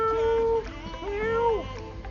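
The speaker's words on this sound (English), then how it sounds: "And we found kitties" Cats meowing in a park in Bonaire, Caribbean Netherlands, with several drawn-out, rising and falling meows in close succession, close and clear over low outdoor background noise.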